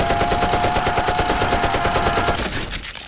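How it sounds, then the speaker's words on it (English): A rapid string of Glock gunshot sound effects fires loudly and evenly, forming a dense machine-gun-like burst before it quickly fades away. "Zundamon, use your Glock"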